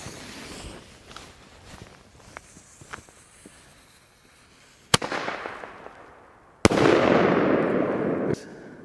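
Single-shot 20 mm firework mortar tubes go off outdoors: two sharp, loud bangs a couple of seconds apart, each followed by a decaying rumble, after a stretch of quieter rustling and footsteps.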